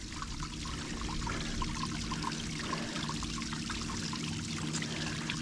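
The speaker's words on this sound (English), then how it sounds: "I think it's just a man-made water fountain" Man-made water fountain at Ravine Gardens State Park in Palatka, Florida, giving a steady, continuous splash and trickle of falling water, close by and fairly quiet, with no voices.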